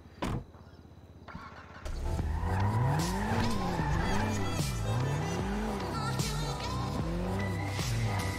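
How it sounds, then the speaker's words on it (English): A car engine in Grand Theft Auto 5 starts, then revs up and down repeatedly with rising and falling pitch, loud and close, brief tire squeal included. "We'll listen to it, the engine."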